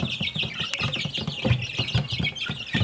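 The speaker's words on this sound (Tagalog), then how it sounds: "mga sisiw pa yan one month old diba?" Month-old chicks, a little damp, kept indoors in temporary housing, chirp and cluck in a steady, close cluster of short, repeated peeps with no voices.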